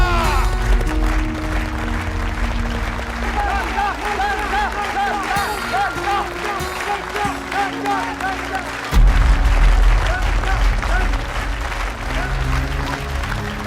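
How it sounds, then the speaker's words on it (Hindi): Village gathering applauding after a sarpanch announces a cash prize, loud sustained clapping mixed with crowd noise and a musical score, with a swell of louder applause midway. "तालियां!"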